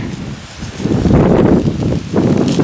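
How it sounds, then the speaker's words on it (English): Wind picks up outdoors beside a river on a kayaking trip, loud gusts buffeting the microphone in uneven surges and rustling nearby, with no voices. "Wind's picking up."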